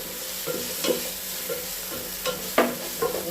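Chopped tomatoes softening in a hot pan give a steady close sizzle, broken every half second or so by scraping stirs of a spatula, with no voices.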